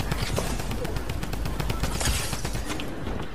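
Rapid, continuous automatic gunfire from the Midas drum gun in a first-person shooter video game, a dense loud burst of shots that runs through the whole clip.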